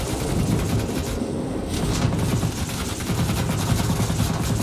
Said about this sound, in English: enemy on my tail, I'm getting shot up